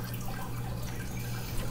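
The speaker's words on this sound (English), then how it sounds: "you can use your hands to make the shape that the water takes when it fills this container" Water pours slowly into a container in a steady, close trickle with soft dripping, heard alone without any talk.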